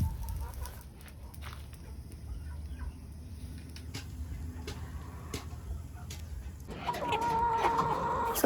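Chickens clucking in a backyard, scattered soft clucks over low background hum, with a louder, sustained call rising near the end.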